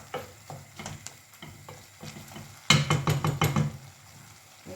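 Chopped greens fry in a pan, with a soft sizzle under intermittent spoon or spatula knocks and scrapes, growing busier and louder with a flurry of stirring strokes partway through.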